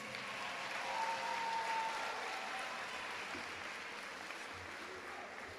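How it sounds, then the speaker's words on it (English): Steady, sustained applause from a large audience at a Ginn Academy graduation ceremony, a dense wash of many hands clapping at once that continues evenly and then begins to fade. "Let's give them one more round of applause."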